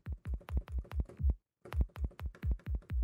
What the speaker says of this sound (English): So the kicks are going to sound something like this